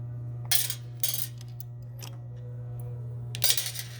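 A small ground wire screw being removed from a Square D NW40 breaker cell interlock, a few sharp metallic clicks and clinks of the screw and tool over a steady low electrical hum, close and quiet.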